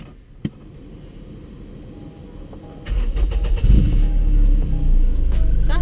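A car engine fitted with an aftermarket exhaust starts and then hums and revs loudly and steadily nearby, with a brief click beforehand.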